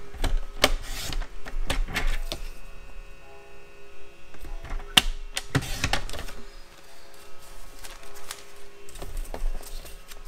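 Paper is cut and handled while a scrapbooking box is made, giving scattered sharp snips and rustles with short quiet gaps between bursts, close and fairly soft, with no talking.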